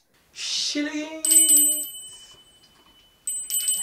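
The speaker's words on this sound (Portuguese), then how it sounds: "Ativa o sininho." A bright bell chime rings out twice, clear ringing tones with a lingering decay, following a short whoosh and a brief voice-like tone.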